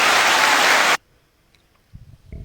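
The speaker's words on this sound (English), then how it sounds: "Let's give them a round of applause." A dense burst of audience applause on a basketball podcast lasts about one second, loud and close, then cuts off abruptly into near silence with faint low rustles afterward.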